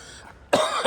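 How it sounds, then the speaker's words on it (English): One sharp, harsh cough bursts out after a moment of quiet, followed by a smaller catch of breath. "Made me cough."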